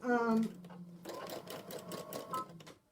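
A sewing machine stitches quilting through its needle threaded with metallic and 30-weight cotton thread at once, a close mechanical whirring and clatter that begins after someone briefly speaks and keeps running steadily for about two seconds.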